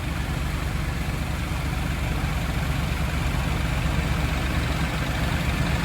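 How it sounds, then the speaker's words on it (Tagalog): After a Totachi flush and a change to Eurodrive oil, a car engine idles steadily and evenly, a constant low mechanical hum close by with no other sounds. "Pakinggan natin yung makina."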